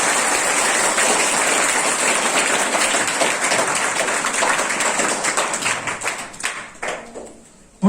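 Schoolchildren applaud together in a room, a dense, loud burst of clapping that holds steady and then thins into scattered claps before stopping.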